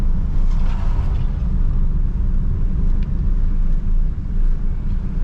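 A car drives along a road, a loud continuous low engine and road rumble with wind noise against the microphone, steady throughout with no talking.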